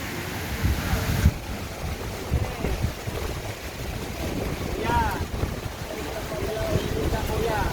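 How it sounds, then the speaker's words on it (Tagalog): Strong wind buffets the microphone with a steady roar, rain and gusts mixing throughout, while people talk intermittently beneath the noise. "Ang lakas ng hangin sa kaulan"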